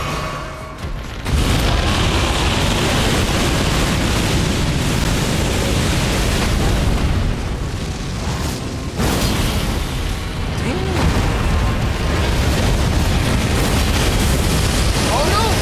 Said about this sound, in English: It's so hard to dodge that fire.